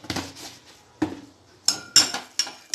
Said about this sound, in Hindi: चीनी घोल लेते हैं अच्छी तरह से।